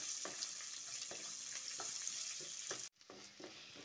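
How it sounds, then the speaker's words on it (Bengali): A large chopped onion fries with nuts and lentils in a pan, giving a steady close sizzle broken by regular spatula taps and scrapes. The sizzle cuts off briefly near the end, then comes back quieter. "পেঁয়াজটা দিয়েও এর সঙ্গে একটু ভালো করে ফ্রাই করে নিতে হবে।"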